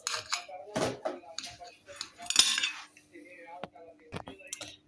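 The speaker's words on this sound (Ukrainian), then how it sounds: "Зараз я розріжу і покажу всередині, як воно." A knife cuts into a baked Italian meat pie, knocking and scraping against a dish and plate with sharp clinks, uneven close-up taps and clatter, while someone talks in between.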